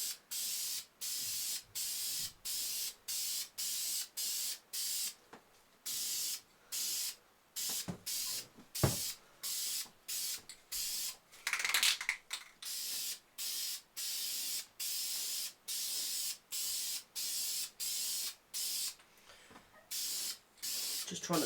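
Repeated bursts of spray paint hissing onto a Sako Quad rifle stock, each spray lasting about a second with short gaps between, close and steady, no talking.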